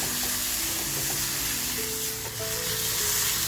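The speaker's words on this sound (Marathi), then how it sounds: "मग आपला मसाला असा छान फ्राय झालाय." Masala for kharda-stuffed pomfret fries in a pan with a loud, dense, continuous sizzling hiss that stays steady throughout.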